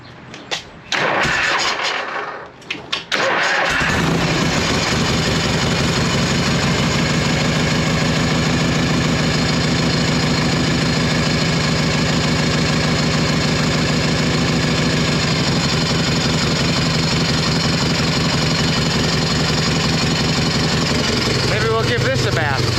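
A 1978 Harley FLH Shovelhead motorcycle engine cranks and fires after a short stretch of speech, then settles into a loud, steady, low idle that lasts for nearly twenty seconds.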